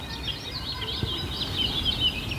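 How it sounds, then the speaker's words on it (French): Birds singing outside a home in April, a continuous stream of bright chirps and trills at moderate distance over light background noise. "Les oiseaux ont l'air en pleine forme chez toi, Olivier."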